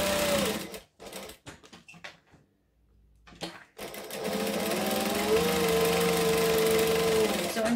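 A sewing machine top stitching vinyl, running in a steady loud stretch after a few short bursts and pauses, close and continuous through the second half.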